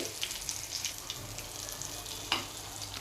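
Surmai fish pieces coated in semolina fry in a pan with a soft, steady sizzle, fairly quiet and close, with a few faint crackles and one sharper spit.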